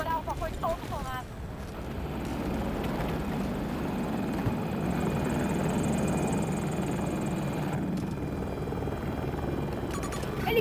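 An enemy helicopter in the Battlefield 2042 video game throbs with a constant, loud rotor and engine drone throughout, and a brief voice-like sound and game effects are heard near the start.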